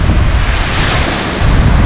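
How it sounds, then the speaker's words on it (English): Ocean waves rush and break continuously at a beach in Cozumel, Mexico, while strong wind buffets the microphone, producing a loud, dense roar with no voices. "It's a very breezy, windy day. There's some waves."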